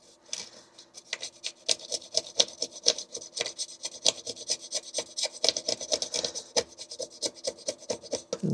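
Hardened UV resin on a 3D print is filed by hand in a steady, scratchy back-and-forth rasp, close and moderately loud, strokes repeating for several seconds without any talk.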